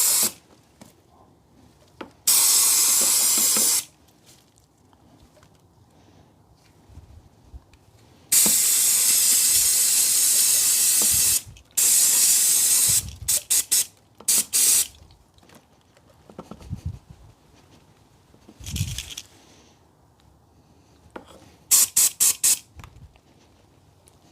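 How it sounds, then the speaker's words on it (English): Brake and clutch cleaner sprays inside a part of a Toyota 1.33 VVT-i petrol engine in loud, close, hissing bursts of varying length, separated by quiet gaps and faint handling noises. "I like to use a bit of brake and clutch cleaner inside there and just give it a wash"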